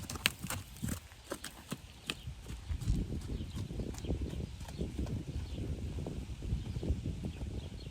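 Horse hooves clop on the ground at a slow walking pace, close by, with some rustling and scuffing between steps.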